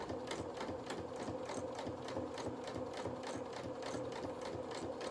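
Domestic sewing machine top stitching the turned hem of a small doll's skirt, a steady rapid run of needle strokes, close and even from start to finish, with a light bobbin rattle.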